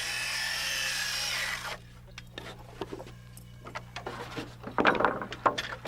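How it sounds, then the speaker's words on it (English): A circular saw laid on its side plunge-cutting waste from a wooden wall-framing board whines loudly for under two seconds, then stops, followed by scattered knocks, scrapes and handling of the wood. "just lay your saw over on its side and remove the waste carefully with a plunge cut."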